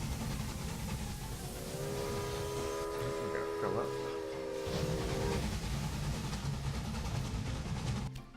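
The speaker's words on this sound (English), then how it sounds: "Let's go ahead and wait for this sugar train to get across to the other side." A sugar train passing in the video game Railway Empire, a steady rail rumble with a long, clear whistle blast in the middle, heard under quiet talk at low volume.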